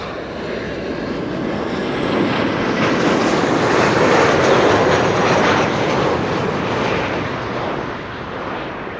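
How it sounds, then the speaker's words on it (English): A Transavia airliner arriving at Amsterdam Schiphol from Alicante passes close by, its jet roar swelling to a loud peak midway and then easing off, with no talk over it. "Transavia coming in from Alicante, flight 6156"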